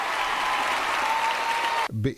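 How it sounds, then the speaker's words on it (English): Audience applause for returning contestants on a live comedy show: a dense, steady wash of clapping that breaks off near the end as a voice begins speaking. "Let's have a nice round of applause."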